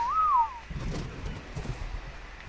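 A player's whistle command in the video game ARK: Survival Evolved sounds as a short, clear two-note whistle at the start, followed by low rustling and thumping game noise.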